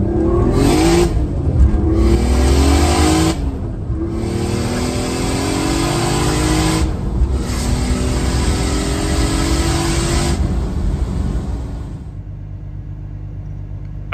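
A turbocharged BMW E46 with an M52/M54 straight-six runs close by, giving a loud, steady engine drone with rising and falling tones and brief dips, before dropping to a lower idle near the end.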